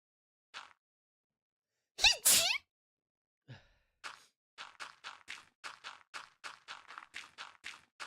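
A short, high-pitched sneeze bursts out at close range, followed by a series of quick, faint rhythmic sniffs or breaths, with near silence in between.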